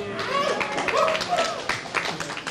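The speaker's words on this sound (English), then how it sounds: "And hear the cheer from here in JPL" Cheers and clapping rise from mission staff at JPL as Voyager makes its closest approach to Saturn, a busy burst of crowd noise mixed with voices.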